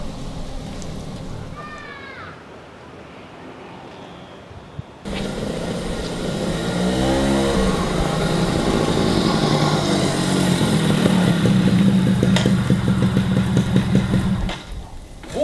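An old, worn-out motorcycle engine runs steadily and loudly, rising from a quieter stretch into a sustained, close rumble with rhythmic idle pulses.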